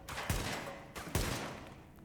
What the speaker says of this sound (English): What I always love here is you can shoot these paint cans.